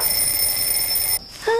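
A steady electronic alarm rings loudly with sustained high tones for over a second, then cuts off abruptly; a short sweeping tone follows.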